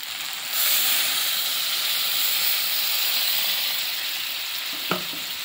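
Water poured into a pan of frying green pea ghugni masala hits with a sudden loud sizzle that settles into a steady, hissing fry with steam for several seconds, no voices.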